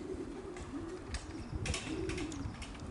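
Pigeons coo in low, rolling calls repeated close by, with scattered clicks and fluttering noises in a quiet outdoor setting.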